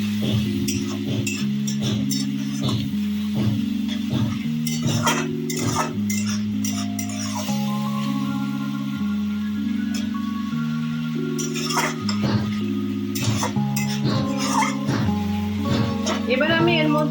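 Spices are sautéed with a little water in a pan for a light fish curry, with gentle sizzling and frequent clinks of a spoon against the pan under steady background music.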